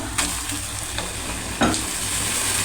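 Tomato pieces frying in a pan for a jackfruit side dish, a steady sizzle and hiss broken by a few sharp stirring scrapes, close and fairly quiet, with no voices.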